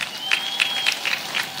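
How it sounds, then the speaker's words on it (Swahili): A crowd applauds at a public political rally, giving a brief burst of scattered claps with a few sharp accents in a roomy space. "Hebu makofi mengi sana kwa mwanasheria mkuu wetu."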